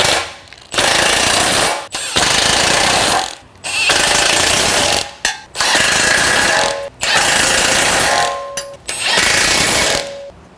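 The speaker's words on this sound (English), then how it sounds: "Go ahead and tighten all 6." An impact wrench tightens the nuts on a Jeep EVO MFG armor bumper, hammering loudly and up close in six rattling bursts of a second or so each, with brief pauses between.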